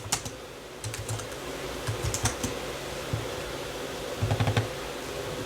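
Close typing on a computer keyboard, with steady clicking keystrokes in short bursts over a low background hum.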